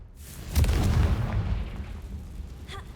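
A Confringo fire spell in the game Hogwarts Legacy goes off with a single deep booming blast that rumbles and fades over a couple of seconds, with no talking.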